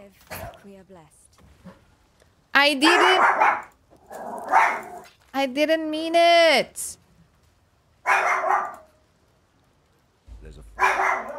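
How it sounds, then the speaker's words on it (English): Two dogs bark in an echoing hallway, with several loud, harmonic barks in bursts separated by pauses, and a person speaks briefly. "I think there's two dogs in the hall."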